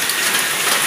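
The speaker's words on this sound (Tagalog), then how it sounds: "Ang lakas ng ulan." Heavy rain pouring in a dense, steady hiss of drops on surfaces during a flood, loud and close for a second with no breaks and no voices.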